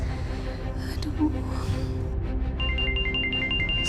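A mobile phone ringtone starts partway through as a repeating pattern of bright electronic tones. Breathy gasps and sighs come first.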